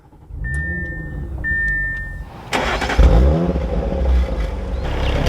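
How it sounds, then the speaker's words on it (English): A 2023 Audi RS5 Coupe Competition starts up after a short electronic chime, the starter catching into a loud, close engine flare that settles into a steady, throaty idle. "Let's fire this up so we can go over all that information. With my foot on the brake, we can bring it to life."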